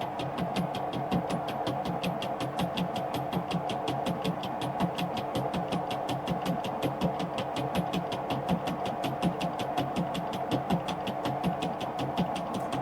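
Metal lathe turning a workpiece friction-driven against the faceplate while cutting, with a steady rhythmic mechanical chatter and hum repeating evenly throughout, close and moderately quiet.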